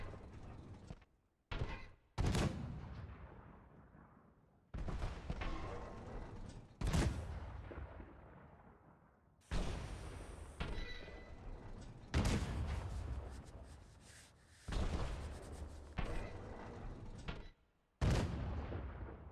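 Gunfire in the horror video game Mundaun, roughly eight heavy shots spaced a couple of seconds apart. Each is a loud booming report that trails off before the next.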